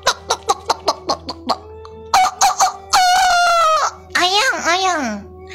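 A voices a string of short clucks, then imitates a rooster crowing in long, wavering cock-a-doodle-doo calls, loud and close.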